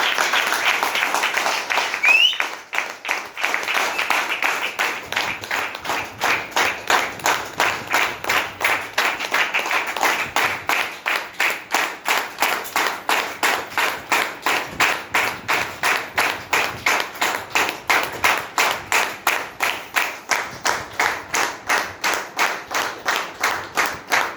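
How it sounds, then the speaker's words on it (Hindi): An audience welcomes leaders onto a stage with sustained applause that settles into steady, rhythmic clapping in unison, loud and continuous throughout. "So please welcome stage our great leader Pammi madam and Sunita Devi जी। जोरदार तालियां।"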